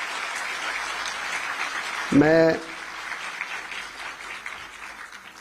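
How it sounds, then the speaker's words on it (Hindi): Steady applause from a convocation audience at a university ceremony with the Indian President as chief guest, a dense even clatter throughout, briefly overlaid by a single spoken word midway. "एक बार सब लोग उनके लिए ताली बजा देंगे।"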